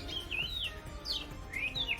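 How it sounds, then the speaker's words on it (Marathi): Small birds chirp in quick, repeated high tweets, fairly faint, against a quiet outdoor background with no talking. "पक्ष्यांचा आवाज तुम्हाला खूप जास्त येत असेल"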